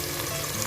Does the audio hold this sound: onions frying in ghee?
yes